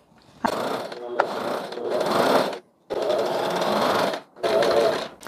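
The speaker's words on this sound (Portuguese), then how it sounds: "Agora vou fazer a costura na parte de cima." A sewing machine stitches along the top edge of a Christmas dish towel in three long, steady whirring runs separated by brief pauses, loud and close.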